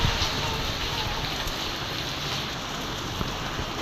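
Heavy rain pours down with strong, gusty wind during a storm that breaks an avocado tree, a dense, loud, unbroken wash of noise that stays steady throughout.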